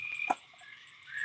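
Frogs croak faintly amid a steady chorus of night insects, with one brief louder call near the start, at a quiet, traffic-free catfishing spot.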